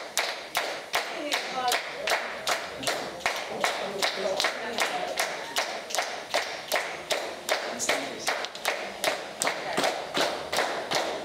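An audience clapping along at a cypher performance, crisp handclaps in a steady, even rhythm of about two to three per second, loud and close, continuing throughout.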